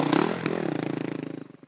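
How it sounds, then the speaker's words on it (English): An off-road motorcycle engine gets a short throttle blip, heard close up as one quick rise in revs that falls back to a fast, pulsing putter, with no one talking. "and then you've given the throttle a bit of a blip"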